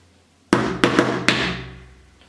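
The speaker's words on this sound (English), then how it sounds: "we're using just a hammer and a nail. We place our piece and we put our nail on it" A hammer drives a nail into a sheet metal piece to punch a small hole, four sharp ringing metallic strikes in quick uneven succession, close and loud, the last blow ringing out longest.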